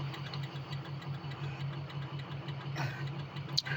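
A diesel truck engine runs steadily on a road trip, with a low, even drone and rumble heard from inside the cab. It is fairly quiet, with a brief clunk near the end.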